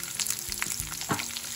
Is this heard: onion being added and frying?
yes